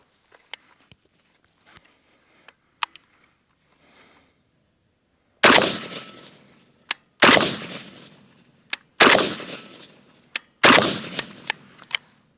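An AK-47 rifle fires four loud, sharp shots at a shooting range during iron-sight zeroing, spaced about two seconds apart, after a stretch of faint, distant gunfire from other shooters.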